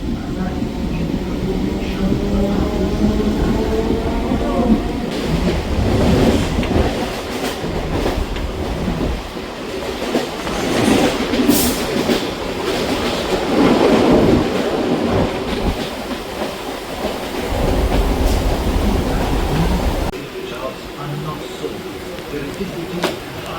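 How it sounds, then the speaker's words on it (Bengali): A Sealdah–Madhyamgram local train runs just after leaving Bidhannagar Road station, with a continuous rumbling roar and clattering wheel noise rising and falling over the whole stretch, heard from inside. "ট্রেন আমাদের বিধাননগর রোড ছেড়ে দিল"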